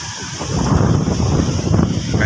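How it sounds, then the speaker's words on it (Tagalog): Strong typhoon wind roars steadily and loudly against the microphone, a continuous buffeting rush with no voices. "sobrang lakas ng hangin"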